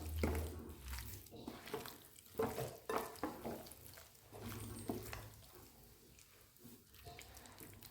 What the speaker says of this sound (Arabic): دوكا راح ندخل التتبيله مليح في الدجاج تاعنا